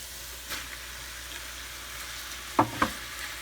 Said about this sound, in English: now I'm going to add the meat.